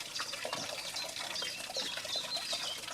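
The Guessant stream at the head of a bay in Brittany flows with a steady, close trickle and babble of water that runs throughout without a break, with no one speaking.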